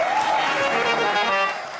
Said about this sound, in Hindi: आपकी बहुत सारी तालियां बुला रही हूँ